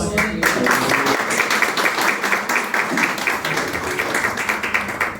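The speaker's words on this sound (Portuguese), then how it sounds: "Batendo a linda salva de palmas para o Rei Jesus" Congregation clapping during a church prayer-circle evening service, a dense steady burst of many hands filling the room for about five seconds, with a faint tonal hum underneath and no speech.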